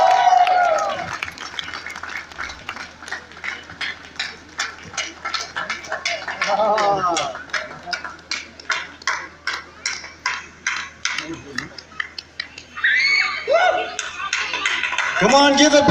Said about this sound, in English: Come on, give a big round of applause, everyone.